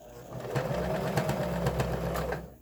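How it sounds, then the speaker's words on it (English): A sewing machine backstitches the seam of a fabric mask, giving a short, close, rapid mechanical whirring burst with a soft rhythmic needle patter. "and then we'll sew it. Back it up,"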